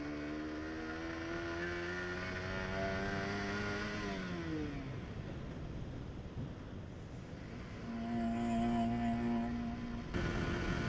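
A KTM RC motorcycle rides along the Dhaka-Rajshahi highway, its mid-pitched engine revving up through gears, dropping off and then climbing again, with wind noise on the microphone.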